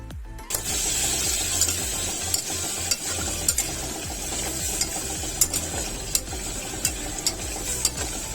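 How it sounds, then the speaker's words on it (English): Turnip and prawns frying in a pan after water is added, a steady bubbling sizzle with intermittent stirring clicks and scrapes throughout, close and continuous with no talking. "Make sure the ingredients do not burn, add water and continue to fry."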